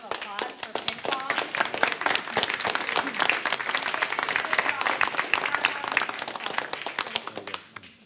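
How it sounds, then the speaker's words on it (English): A big round of applause at a town finance committee meeting: a crowd claps steadily with sharp individual claps and a few voices, fading toward the end. "Everybody to give a big round of applause for ping pong."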